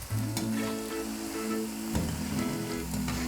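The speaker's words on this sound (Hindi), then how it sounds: "इसे ऐसे हिला हिला के पलटाएंगे ताकि चारों तरफ से बूंदी फ्राई हो जाए" Besan boondi deep-frying in hot oil over a medium-to-high flame while being stirred and turned, a continuous close sizzle with scraping and swishing of the spoon, with no talk.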